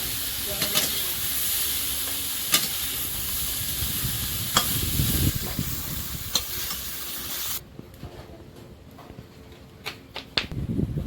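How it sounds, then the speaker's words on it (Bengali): Fresh river prawns fry in a pan with a steady, loud sizzle and occasional sharp crackles. The sizzle drops away abruptly partway through, leaving a quieter hiss with scattered pops. "চিংড়িটা ভাজা হয়ে গেল এবার উঠিয়ে নেবো"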